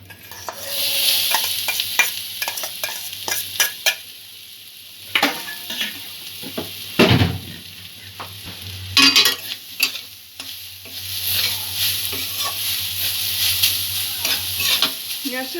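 Grated coconut frying with three cardamom pods in a pan over a medium-low gas flame, for a sweet milk puli pitha filling: a steady close sizzle broken by repeated scraping stirs, with no talking.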